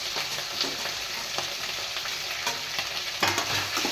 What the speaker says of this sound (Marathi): मस्त असं परतून घेणार आहे.